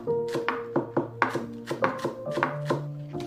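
A kitchen knife chops food on a cutting board in a series of about a dozen sharp, close knocks at an uneven, brisk pace, with no talking.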